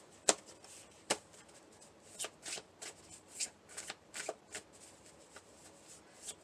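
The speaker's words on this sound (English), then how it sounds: "Let me shuffle that real quick." A deck of oracle cards being shuffled by hand, a run of soft papery riffles and taps, some sharper and louder than others, close up in a quiet room with no talking.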